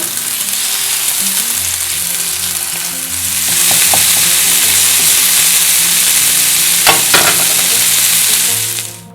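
Bubble and squeak patties frying in a pan give a steady sizzle that grows louder and hissier partway through, with a couple of brief clatters as the patties are flipped.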